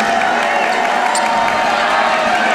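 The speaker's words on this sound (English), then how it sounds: "Crowd getting into it." Crowd noise fills a gym at a girls' high school basketball game, a steady loud wash of voices and cheering with no clear breaks, close and continuous throughout.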